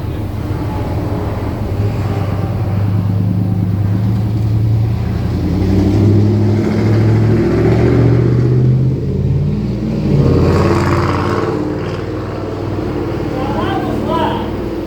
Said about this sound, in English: What is that loud noise? Sounds like an engine.